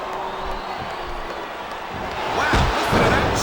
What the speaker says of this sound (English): listen to that chant, Taz.